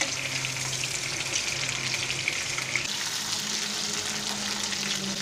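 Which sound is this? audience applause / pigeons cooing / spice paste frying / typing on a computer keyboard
spice paste frying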